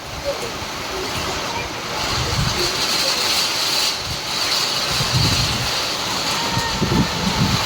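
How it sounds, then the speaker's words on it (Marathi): Strong wind from a thunderstorm roars and buffets the microphone in surging gusts, with a broad rushing noise and people talking faintly underneath. "जबरदस्त स्पीड आहे वाऱ्याला"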